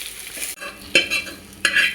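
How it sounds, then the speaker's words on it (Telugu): Onions for a gravy sizzle steadily in a pan while a spoon stirs them, giving two distinct scraping strokes over the constant frying hiss, up close with no voices. "ఇప్పుడు ఒక రెండు నిమిషాలు ఫ్రై చేద్దామండి"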